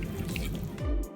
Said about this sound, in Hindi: आहिस्ता आहिस्ता पानी शामिल करते जाएं और लई को घोलते जाएं।